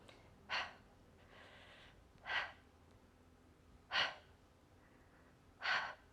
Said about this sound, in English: you don't have to just listen to me awkwardly huff and puff